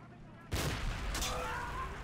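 Gunfire breaks out in a D-Day Omaha Beach war game after a quiet moment, with a sharp burst followed by sustained rattling and booming fire, loud and close.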